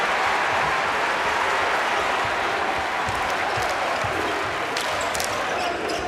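A packed college basketball arena crowd claps and cheers steadily throughout a Duke Blue Devils versus Virginia Cavaliers game, forming a dense, continuous roar with faint sneaker squeaks.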